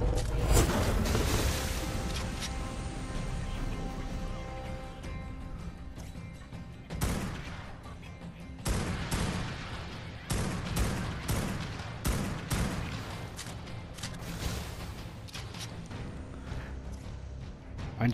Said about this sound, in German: Ich schieße schon mit meinem Scharfschützengewehr